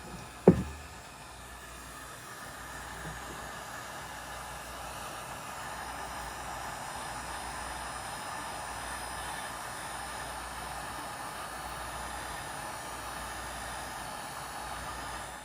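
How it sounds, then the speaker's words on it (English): A heat gun blows a steady, loud hiss across iron nitrate-coated wood, a baseball bat, after a brief knock at the start, with the whoosh holding constant and no talk over it. "we're going to heat it with the heat gun and see how it looks"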